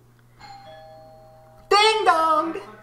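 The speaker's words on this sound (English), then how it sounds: "Ding dong!" A two-tone doorbell chime rings out clearly, a soft ding-dong held for about a second, and a person's voice then takes over loudly.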